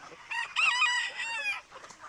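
Backyard chickens cluck and crow close by in a short, loud burst of overlapping bird calls, with no talking.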